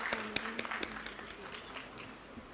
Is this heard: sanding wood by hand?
no